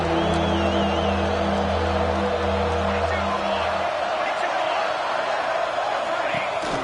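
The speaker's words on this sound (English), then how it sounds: "And here comes the noise. This crowd is trying to inspire this defense to make a big red zone stop." A football stadium crowd at a UNC vs UNLV game roars steadily as the home defense tries to make a red zone stop, a dense wash of cheering with a low sustained hum that drops away midway, with no clear talk over it.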